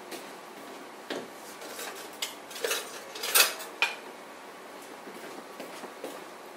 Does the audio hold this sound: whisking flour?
yes